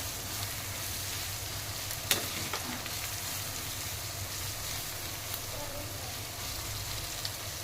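Meal maker soya chunks fry in hot oil for a gonguura dish, giving a steady close sizzle with a few sharp crackles and a stirring scrape.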